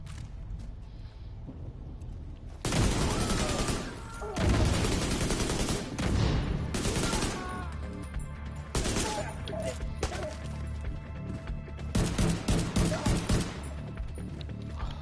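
Repeated close gunfire bursts in The Division 2, loud cracking volleys separated by short gaps over a rumbling game ambience, with several tight clusters of shots toward the end.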